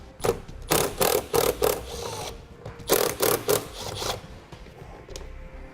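Two 8mm screws holding the taillight of a 2017 Ford Escape are backed out with a clicking ratchet in two loud, close bursts of rhythmic ticks separated by a pause.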